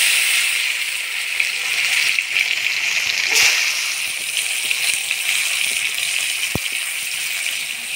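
Chopped tomato being stirred through hot tempering oil with whole spices, a steady hissing sizzle with wet sloshing and a few spoon knocks, close and continuous with no talk.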